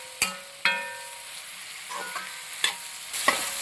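Spoon stirring turmeric and coriander powder in a hot pan for a mixed vegetable kurma, with a few sharp scraping clinks against the metal over a soft, steady frying sizzle, close and fairly loud, no talking.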